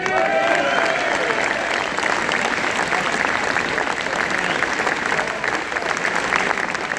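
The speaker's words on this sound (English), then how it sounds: "Let's have a big round of applause for these two men" A crowd at a march in London applauds in a dense, steady wash of clapping that holds at an even level throughout, with no single claps standing out.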